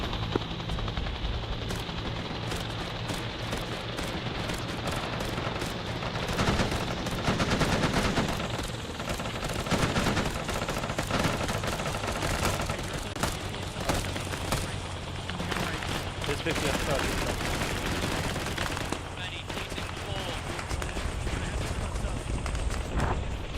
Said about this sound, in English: don't waste a shit ton of ammo, but if you get some good shots in there, that's fine